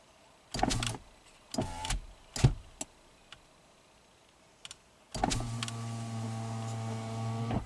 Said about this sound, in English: Are we back to a similar situation now where the window only goes up 1 inch?